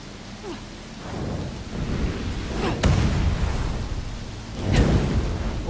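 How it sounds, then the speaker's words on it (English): Fire rain spell in Lichdom Battlemage on Xbox One X roars and crackles like a storm, with rumbling impacts and a couple of sharp booming strikes swelling over the continuous hiss. "Unleashing fire rain."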